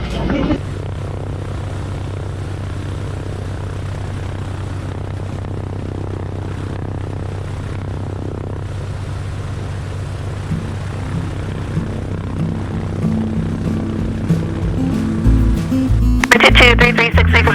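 A propeller airplane runs up on a runway for takeoff, a steady droning engine hum that builds and grows louder toward the end, close and continuous.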